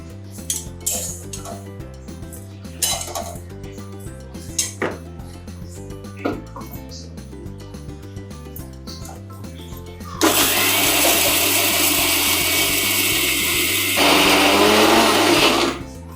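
A kitchen mixer grinder whirs loudly for several seconds while grinding garlic and cumin for chakli dough, after quieter clinks of utensils and jar handling near the start.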